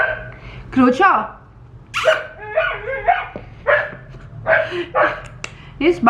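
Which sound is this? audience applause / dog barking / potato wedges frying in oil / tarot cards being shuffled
dog barking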